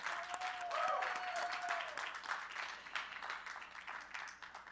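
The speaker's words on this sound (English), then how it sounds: "Let's have a huge round of applause" Steady applause from an audience, a dense wash of clapping holding for several seconds and slowly thinning toward the end.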